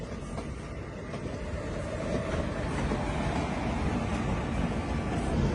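Coimbatore Rameswaram Express rolling past alongside a platform, a steady broadband rumble of wheels and carriages that builds slightly louder partway through, with no voices.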